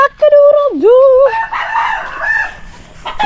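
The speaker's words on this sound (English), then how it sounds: "These are the chickens." A rooster on a farm, one of about a hundred chickens kept for cockfighting, lets out a loud, close crow, followed by softer clucking and general fowl chatter mixed with background noise.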